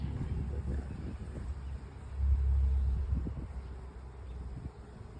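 Honeybees swarming thickly around a hive, a continuous close buzzing drone with a low rumble swelling midway, faint background sounds beneath.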